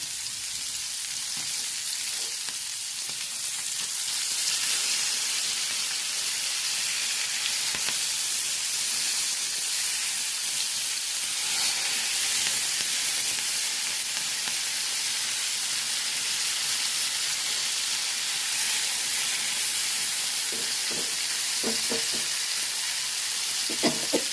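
Sardines frying in coconut oil with curry leaves in a pan, a loud continuous crackling sizzle throughout, with occasional stirring scrapes and spatters.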